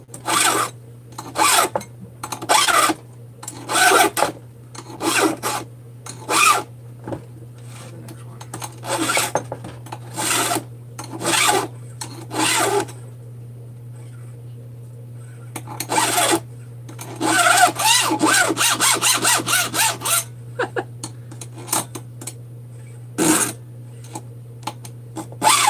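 A cutter rasps through wood in repeated short strokes, each a harsh scraping burst separated by pauses, with a fast flurry of strokes midway, close and loud over a steady low hum.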